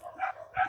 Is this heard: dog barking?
yes